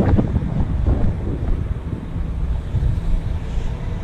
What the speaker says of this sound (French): Là, il y a un vent de folie, là.